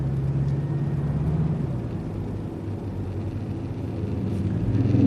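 A truck passes close alongside a Crown Vic in traffic, its deep rumble building and swelling near the end over the car's steady road noise.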